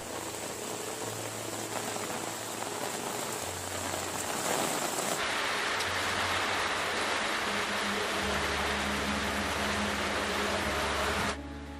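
Widespread heavy rain in a rural farming area, falling in a steady, dense hiss on surfaces that swells louder midway and continues unbroken, with no voices.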